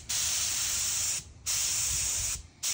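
A Harbor Freight touch-up paint spray gun hisses in two long continuous bursts with a brief pause between them and another short gap near the end, steady and close.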